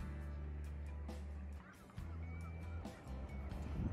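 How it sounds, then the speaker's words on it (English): Seagulls cry faintly and repeatedly in the distance over Georgian Bay while kayaking, with a steady low engine-like hum underneath. "There are so many seagulls"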